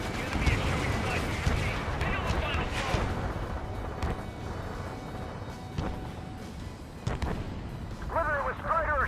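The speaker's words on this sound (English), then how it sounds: "Prepare the volley. Fire." Artillery volley in Ace Combat 7, a series of heavy booming shots and crashing impacts spread across the moment, loud and reverberant, with radio voices talking between the blasts.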